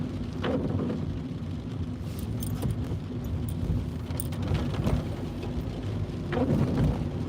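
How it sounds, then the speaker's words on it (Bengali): Rain heard from inside a car while driving, a steady wash of noise with low rumbling and scattered drops hitting the surface, fairly quiet and continuous. "আজকে ছিল বৃষ্টি আজকে হচ্ছে বৃষ্টিময় দিন"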